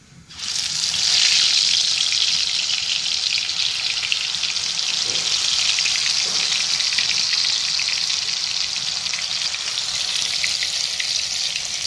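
Dal pakoras frying in an old kadai give a loud, steady, hissing sizzle of hot oil that holds without a break from start to finish, with a couple of faint knocks partway through.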